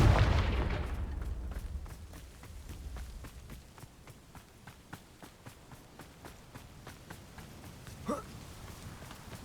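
Confringo fire spells blast in the Hogwarts Legacy video game, opening on a loud boom that fades into a low rumble, then a series of regular thuds and one more burst near the end.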